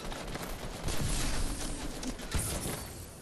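Dense rapid gunfire in the Fortnite shooter game, a loud continuous crackle of overlapping shots with a couple of heavier thumps, filling the whole short stretch.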